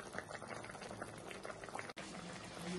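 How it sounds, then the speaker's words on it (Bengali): A pot of curry simmers on low heat with garam masala added, giving a steady, quiet bubbling and popping that continues without a break and with no voices. "এবার হালকা আঁচে এটা একটু 5 মিনিট ফুটবে"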